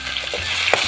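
Ginger-garlic paste sizzles in hot oil in a pan already holding fenugreek seeds and dried red chillies, cooked for an Indian gooseberry fish curry. A close, steady hiss of frying runs for under a second.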